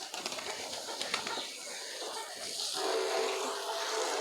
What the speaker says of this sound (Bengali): সব পায়রাগুলোকে খাবার দিয়ে দিলাম। আমার যতগুলো পায়রা আছে সব চলে আসবে এবার খেতে।